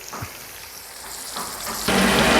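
Ginger, garlic and tomato sautéing in a pan for a Kerala-style golden chicken gravy: a hissing sizzle builds steadily and jumps louder near the end as more goes into the hot oil.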